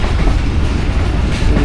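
A shunting locomotive hauling a van rumbles past close by on rails near Lahore, a steady rolling clatter of wheels with no break.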